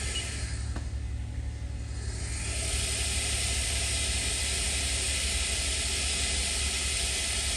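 A Haas OL-1 CNC office lathe from 2011 with its main spindle running at 2,000 RPM, a steady broadband whir and hiss that holds constant throughout, loud and close, with no talk.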